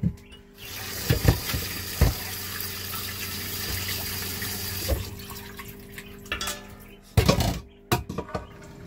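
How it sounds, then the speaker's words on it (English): Tap water runs into a kitchen sink aboard a narrowboat as food is drained and rinsed, a steady hiss of flowing water broken by splashes and clattering knocks near the microphone. "So as I'm draining them, I'm going to be rinsing them"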